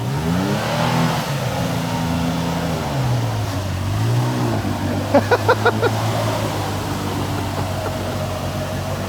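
A pickup truck engine revs hard and steadily while spinning through slick Carolina clay mud, rising and falling in pitch, loud and close, with brief sharp clatters midway.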